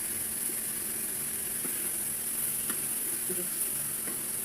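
Eggplant slices frying in a generous amount of hot oil for a home-cooked family lunch, giving a steady close sizzle with a few soft clicks and stirring sounds.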